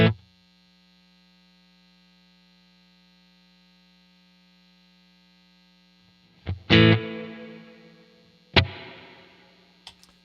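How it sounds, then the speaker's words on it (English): An electric guitar through a Quad Cortex amp model with plate reverb. A soft note and a long quiet stretch give way to two sharp distorted strums, each blooming into a lush, lingering reverb tail that slowly decays. "A plate reverb is very big and lush and full, and it's a very nice sound"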